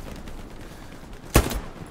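A single loud gunshot cracks out in a video game firefight, one sharp close blast with a short tail of lesser reports after it, over low background noise.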